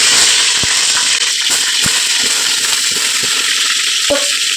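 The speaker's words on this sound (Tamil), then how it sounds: "10 நிமிஷத்துக்கு நல்லா கலர் மாறி வர வரைக்கும் கத்திரிக்காய் வதக்கிக்கோங்க" Eggplant pieces fry in hot ghee in a pan for eggplant biryani, a loud, steady, close sizzle throughout, broken by occasional light taps of a spatula.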